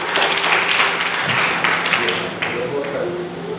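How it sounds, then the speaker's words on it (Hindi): Audience clapping breaks out to honor a student at a student camp event, a dense, steady patter of many hands sustained throughout at a fairly loud, close level. "जोरदार ताली बहन के लिए"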